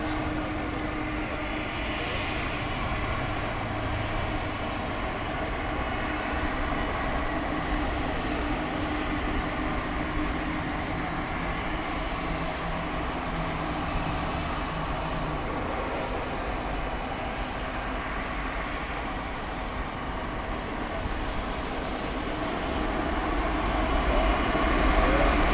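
An Atlas Air cargo plane at DFW Airport at night gives a steady, loud broadband engine roar that swells slightly toward the end, with no speech.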